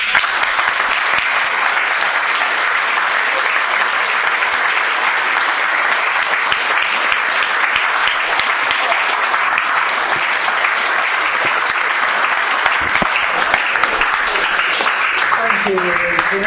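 An audience at a Narcotics Anonymous meeting in Trafalgar Square breaks into sustained, dense applause that holds steady and loud throughout, with a voice emerging faintly near the end.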